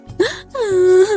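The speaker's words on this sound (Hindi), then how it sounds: "जोर जोर से रोने की आवाज उन दोनों को सुनाई देती है।" A kite's loud, drawn-out cartoon wailing cry, rising then holding a long moaning tone, heard alone in two bursts.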